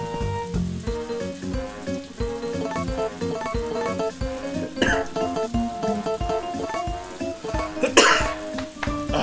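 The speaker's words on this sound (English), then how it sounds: "Why am I coughing so much today?" A person coughs repeatedly while playing Harvest Moon: A Wonderful Life, the dry coughs sounding over continuous game music with a sharp loud burst near the end.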